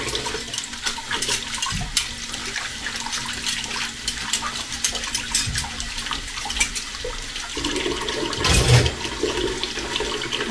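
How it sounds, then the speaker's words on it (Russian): Water pours steadily from a hot tap into a kitchen sink, a continuous rushing splash with a brief louder gush near the end, no voices. "Сначала она идет очень долго холодная из горячего крана"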